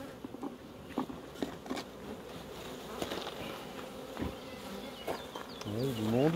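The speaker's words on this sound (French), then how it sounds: "Ça devrait être un essaim normal." A honey bee swarm at a hive gives off a low, continuous buzzing hum with scattered ticks and taps, fairly faint and close, while someone talks nearby.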